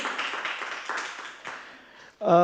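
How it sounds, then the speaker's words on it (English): A conference audience claps after a presentation, a lively patter of hands that thins and fades out before a speaker's voice takes over at the end. "give a round of applause to Ms. Miranda for her presentation"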